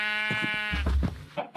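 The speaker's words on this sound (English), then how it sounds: "it's full of sheep and cows" A Minecraft sheep gives a drawn-out nasal bleat, close and clear, followed by a few low thuds and a short shuffle of movement.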